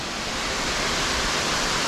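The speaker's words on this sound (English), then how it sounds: "It's a beautiful place, nice waterfall, beautiful pond, unbelievable." The waterfall at the Den of Nargun in bushland roars as a loud, steady broadband rush of falling water, close and continuous with no other sounds.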